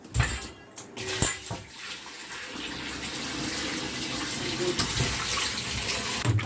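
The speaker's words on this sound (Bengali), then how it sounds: "আমগুলো ধুয়ে নিচ্ছি।" A tap runs steadily as mangoes are rinsed under it, with splashing and a few louder knocks near the start.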